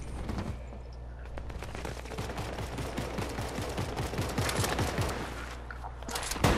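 Rapid bursts of gunfire from the video game Fortnite rattle over a dense, steady game background, the shots running in quick trains across most of the stretch.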